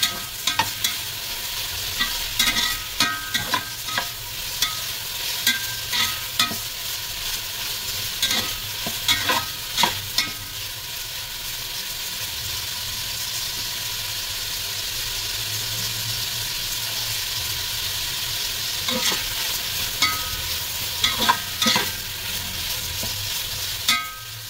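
Beef fat renders in a hot pan while cooking papaitan, giving a constant loud sizzle and hiss, with spatula scrapes and clanks against the pan recurring irregularly throughout.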